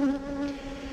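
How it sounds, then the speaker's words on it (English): Honeybees buzz steadily at close range during a Texas hive inspection, crowding the lip of the box over freshly exposed propolis, with a continuous droning hum and no talking. "There's bees trying to reuse propolis that I just unearthed, so they're on the lip here."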